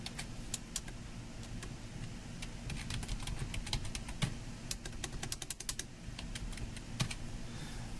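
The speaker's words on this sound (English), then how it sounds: "You just type in what you want" Fingers type on a computer keyboard in a steady, fast patter of close, crisp key clicks over a low background hum, with no voices.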